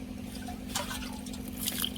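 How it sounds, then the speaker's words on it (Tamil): Water is poured onto potted rose plants, with soft dripping and splashing over a steady low background hum and no talk. "இப்போ நான் தண்ணி ஊற்றிட்டு இது கட் பண்ணலாம்."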